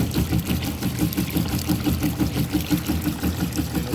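Heateflex HPF heater unit pump recirculating water back into its tank with the output valve closed, a steady mechanical hum with a fast pulsing rhythm, close and continuous.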